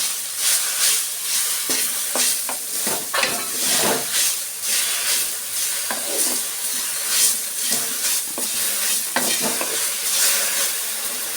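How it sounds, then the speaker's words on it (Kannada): Mint chutney ingredients with salt stirred and fried in a pan, giving a steady close sizzle broken by repeated scraping stirs throughout, with no talking. "ಎಲ್ಲ ಸೇರಿಸಿ ಚೆನ್ನಾಗಿ ಮಿಕ್ಸ್ ಮಾಡಿ ಫ್ರೈ ಮಾಡ್ಕೊಳ್ಳೋಣ"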